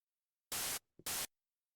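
Two short bursts of harsh white noise from the Xfer Serum synthesizer, each about a quarter second, separated by a brief gap, loud against silence.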